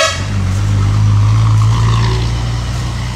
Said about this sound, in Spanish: Como veis, solo se oyen camiones